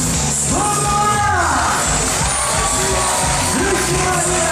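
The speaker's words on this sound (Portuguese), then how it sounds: "Eu quero que vocês recebam os meninos uma salva de palmas" Audience at a Festa Junina concert in Belém cheering, whooping and clapping for the performers, a dense crowd roar with scattered yells and whistles throughout.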